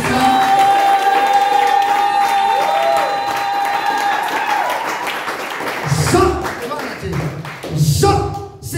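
A church congregation claps and cheers after a French-language sermon, the applause rising to loud bursts and shouts near the end, following a stretch of sustained music and voices.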